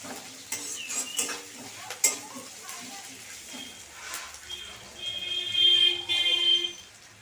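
Garlic, ginger and chili frying in a pan: a moderate sizzle with occasional utensil clinks and stirring scrapes, rising into a brighter, louder hiss near the end, with a voice speaking quietly over part of it.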